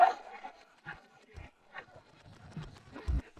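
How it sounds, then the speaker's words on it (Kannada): A dog barks in short, faint bursts separated by quiet pauses, with a few yaps spread across a few seconds. "ಏನಿದು ನಾಯಿ ಶಬ್ದ?"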